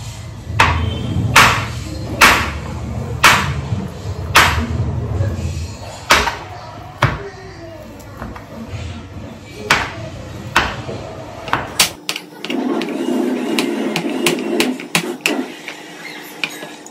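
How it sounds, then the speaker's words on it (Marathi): Jaggery being grated by hand in a home kitchen, a series of sharp, evenly spaced scraping strokes close by, followed by softer clatter and a low background hum near the end. "तोपर्यंत गुळ किसून घेऊ."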